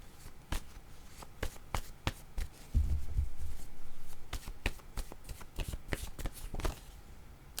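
Deck of playing cards being shuffled, a series of crisp riffling snaps and flutters close up, with a longer burst in the middle, no talk.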